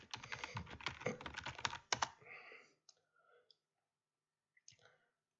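A quick burst of close keyboard typing as a git clone command is entered, ending in a sharp final keystroke, then a few scattered clicks in near silence.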